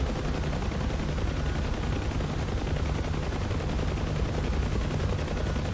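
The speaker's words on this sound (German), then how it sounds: "Oh, da wird geschossen." Dense, continuous gunfire in the DCS World combat flight sim during a UH-1H Huey mission, a steady rattling barrage with no breaks, loud and unbroken across the whole stretch.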